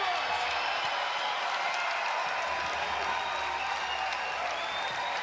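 Crowd applause and cheering at a pickleball match played by tennis legends, a steady dense roar of clapping filling the whole stretch, with some voices mixed in.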